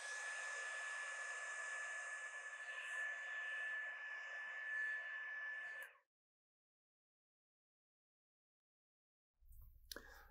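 A hair dryer blows on paint for six seconds, a loud steady whirring hiss with a thin high whine, then cuts off abruptly into silence before a brief click and hum near the end.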